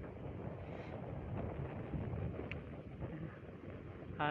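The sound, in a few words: wind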